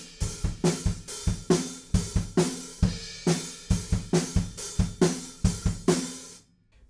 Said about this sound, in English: We're basically going to use the chorus groove again for the bridge